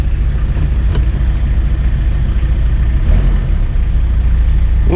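A diesel Toyota LiteAce idles nearby with a loud, low, steady rumble and a constant mechanical clatter, with no talking over it.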